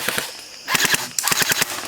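Airsoft gun firing outdoors during an airsoft war game, a quick series of sharp snapping shots in two short bursts, close and loud, with a brief quiet gap before the first burst.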